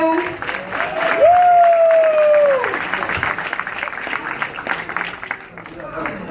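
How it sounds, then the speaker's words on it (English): An audience applauds and cheers for Irv Gotti at an interview event, a crowd clapping under a rising and falling whistle or feedback tone, and speech follows as the clapping fades. "I'd like you guys to give one of my great friends, longtime friends, a big round of applause"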